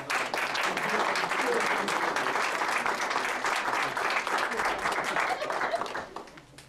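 People at a school board meeting give a round of applause, with thick, continuous clapping that stays strong for several seconds and then tapers off near the end.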